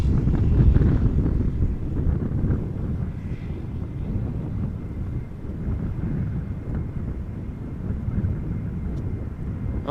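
A KLM airliner arriving at Amsterdam Schiphol in a crosswind gives a deep, heavy jet rumble, with gusts buffeting the microphone; both stay loud and steady throughout.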